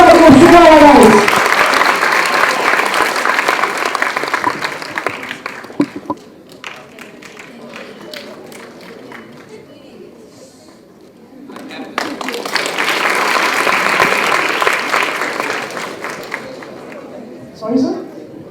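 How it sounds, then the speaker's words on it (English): College audience applauding guests from the film Shikara, a long burst of clapping and crowd noise that fades to a lull, then swells again into a second round of sustained applause. "Let's have a round of applause for the Shikar guys"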